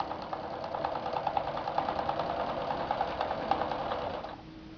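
A sewing machine runs steadily, stitching fabric up to a seam end with a rapid, even needle rhythm, close and loud, then winds down and stops near the end.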